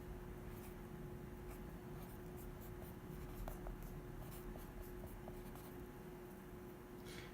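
A pen writes chemistry structures by hand on paper, producing faint, soft scratching strokes in short bursts over a steady background hum, with no talking.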